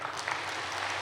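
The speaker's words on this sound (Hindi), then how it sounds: "वाह, इनके लिए तो जोर से ताली बजाए" An audience at a spiritual talk breaks into applause, a dense wash of clapping that holds steady and fairly loud through a brief moment, with no voices over it.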